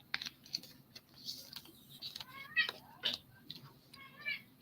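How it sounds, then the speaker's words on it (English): A house cat meows in several short, chirpy, rising calls spread across a few seconds, with light ticking and tapping in the background of a quiet indoor room. "Your kitty is talking to my kitty."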